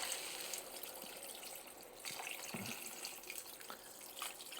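Water pours steadily from a pitcher into a Dutch oven to cover a turkey carcass for stock, a continuous splashing gush at close range with no talk.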